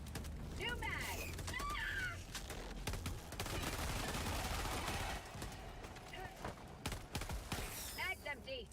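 Magazine reload in the video game Helldivers 2: mechanical clicks and ratcheting clacks of a fresh magazine seating, set amid dense, continuous gunfire and battle noise, with voices speaking in the background.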